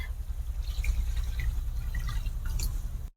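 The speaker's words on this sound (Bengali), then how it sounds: "তেঁতুলের জলটা দিয়ে দেবো এর মধ্যে" Strained tamarind water poured into a dish of fish for a light curry with potatoes: a steady close trickle and patter of liquid running for about three seconds, then stopping abruptly.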